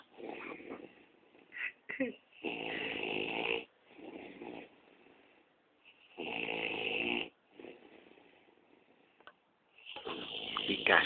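A man snores in heavy, rattling bursts, three long loud snores spaced a few seconds apart with softer breaths and faint background murmurs between.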